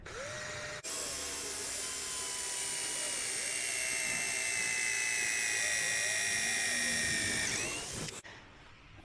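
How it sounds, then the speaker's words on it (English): A power drill whines continuously for several seconds, starting abruptly and cutting off near the end, its pitch wavering as it bores out wooden dowels in a vintage oak door. "I'm going to drill them out and take all the parts of the door apart."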